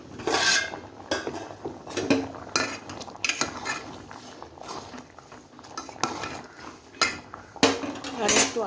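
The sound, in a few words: pan of potato tomato curry being covered with lid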